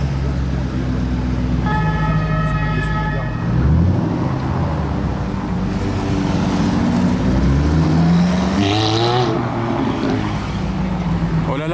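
Aston Martin One-77 arriving at a car gathering, engine revving and rising in pitch amid crowd noise and other passing cars, with a horn toot early on.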